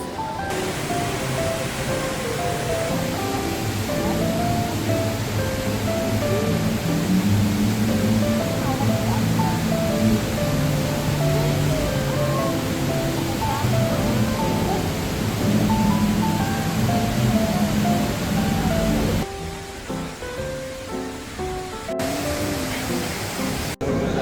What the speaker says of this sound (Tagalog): Oh, the biggest man-made waterfalls.